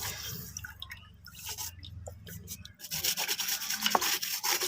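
A wet amplifier board is scrubbed and cleaned close up. Rough rubbing and brushing strokes come in short bursts with small watery drips, and the scrubbing grows busier and louder toward the end.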